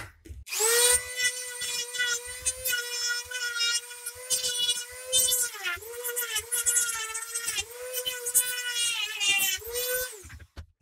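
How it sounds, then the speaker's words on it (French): Dremel rotary tool cutting and grinding away interior plastic parts of a Stryfe toy blaster, a loud high-pitched whine that dips and recovers as the bit bites into the plastic, running steadily for about ten seconds with no talking. "à l'aide de la Dremel, le but va être de retirer toutes les petites parties de plastique au milieu et en interne"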